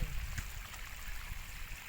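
Steady rushing of rainy-season water flowing into an orchard, like a small stream, continuous and fairly close with no voices.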